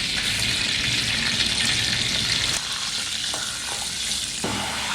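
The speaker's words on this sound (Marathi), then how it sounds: "खडा मसाला टाकू मित्रांनो खाली." Whole spices sizzle and fry in hot oil in a pan for a village-style green chicken, a steady close hiss that drops slightly in level partway through, with no talking.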